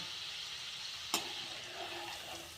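Tomato chakli dough frying in medium-hot oil, a steady soft sizzle of bubbling oil throughout with one brief sharp crackle near the middle, no voices.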